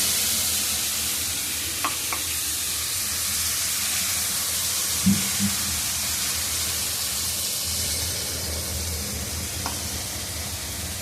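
Tomato and green chilli paste sizzles in a hot pan over tempered nigella seeds, a steady broadband frying hiss with a few soft stirring clinks and scrapes, close and alone without talk.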